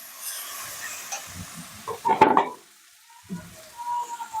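Spices sautéing in a pan for a homestyle Bengali chicken curry with Kashmiri red chilli powder, a soft sizzle with a brief louder burst of frying and stirring midway, close by and otherwise quiet.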